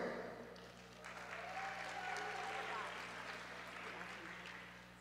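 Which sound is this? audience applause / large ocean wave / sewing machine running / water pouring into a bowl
audience applause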